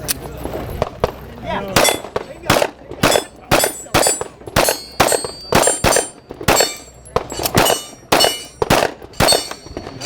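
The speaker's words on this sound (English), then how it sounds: "Let me shoot a couple shots and show you how this thing" A Springfield XDs pistol in .40 S&W fires in quick strings at steel targets on a range. Sharp, loud reports each come with a ringing metallic clang, around a dozen or more in uneven bursts, with a brief word spoken.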